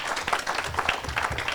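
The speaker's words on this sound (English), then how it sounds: "let's give the speakers another round of applause real quick" Audience applause for the speakers at the close of an evening education event: a brief, steady patter of clapping from a room of listeners, moderate in level, with faint voices mixed in.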